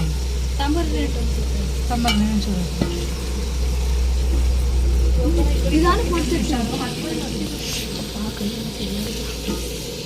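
Cooking oil sizzles and spatters in a pan while food is stirred, a continuous crackling hiss under a low hum with occasional scraping, and a person talks over it.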